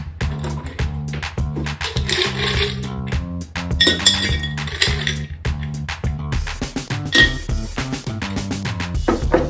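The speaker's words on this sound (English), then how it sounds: "And give yourself a good amount of ice." Ice cubes clink and clatter into a glass while a Rob Roy cocktail is being mixed, a close run of bright hard knocks in quick bursts with brief pauses between scoops.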